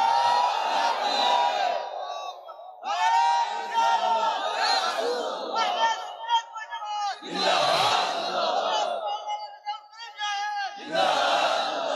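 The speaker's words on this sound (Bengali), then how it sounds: "ডান হাত সোজা করে দেখায়, জবান খুলে তাকবীর।" A large crowd chants the takbir in bursts of loud massed voices, several surges over about twelve seconds with brief dips between them.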